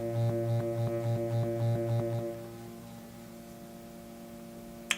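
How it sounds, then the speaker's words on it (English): A low, steady buzzing hum with a faint pulsing rattle for a couple of seconds, then a quieter lingering drone and a small click at the end. "The vibration power is pretty strong"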